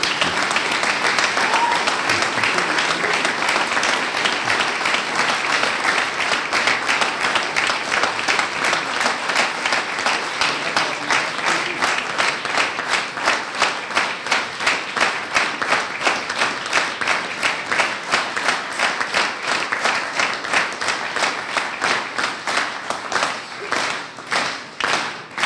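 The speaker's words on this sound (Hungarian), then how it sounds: "itt most önök saját magukat tapsolták meg" An audience at an award ceremony applauds loudly and continuously, a dense wash of clapping that falls into a rhythmic, steady beat toward the end.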